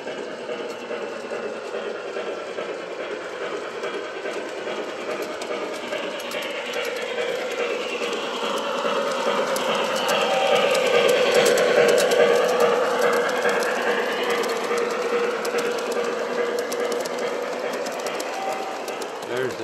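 Cab-forward model train rolling steadily through a double crossover switch, a continuous mechanical clatter that swells and peaks midway as the wheels cross the points, with no one speaking.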